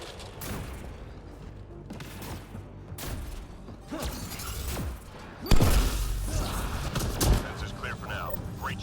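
Explosions and gunfire in Mass Effect Andromeda multiplayer combat: scattered impacts through the first half, then a heavy boom near the middle and another blast shortly after, over a constant background of game effects.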